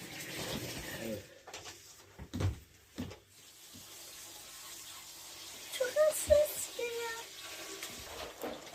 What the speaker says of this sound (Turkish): Ha, tekrardan su dolduruluyor.